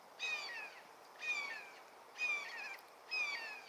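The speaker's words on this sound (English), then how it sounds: "That hawk." A hawk calls outdoors: four clear, high, slightly descending cries, evenly spaced about a second apart, at moderate distance over a quiet background.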